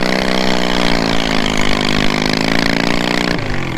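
A diesel-engined lawnmower fitted with snowmobile skis drives through snow, its engine running loud and close with a steady pulsing drone that holds for several seconds and then drops in pitch near the end.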